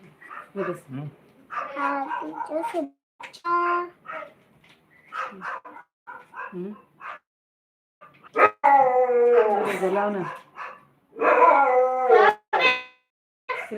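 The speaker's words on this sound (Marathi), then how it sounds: "कुत्र्याचा आवाज जास्त येते" A dog barks and howls in bursts, loud and close, alternating with a person speaking.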